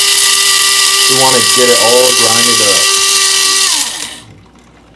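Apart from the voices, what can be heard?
electric coffee grinder grinding coffee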